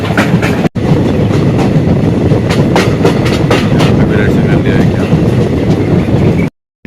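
Nauchandi Express sleeper train rolling along the tracks, a loud, steady rumble with clickety-clack wheel beats and wind rush heard from inside the coach, cutting out briefly near the end.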